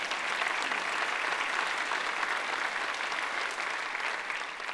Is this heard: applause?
yes